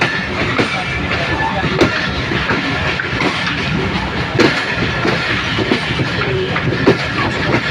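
Train at Madlagarh railway station, a steady loud rumble of wagons with faint clickety-clack of wheels on track running throughout, with no pauses.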